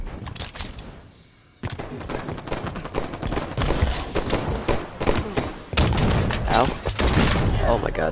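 Grenades go off in a Halo free-for-all match amid rapid gunfire, dense bursts of blasts and shots with a short lull near the start, then a loud run of explosions; game voices sound under the action.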